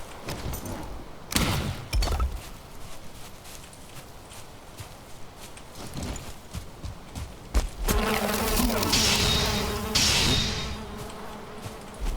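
Bees buzzing around beehives in the video game Valheim, a steady insect drone with scattered clicks and footsteps, swelling louder in the later seconds.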